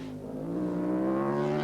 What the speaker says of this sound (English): The distinctive four-stroke sound of Paul Pavlitic's Ducati.